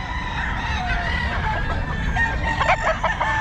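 Roosters and other chickens at a crowded pet market, crowing and clucking over a constant din of background noise, with a burst of sharper calls near the end; no clear talk rises above the racket.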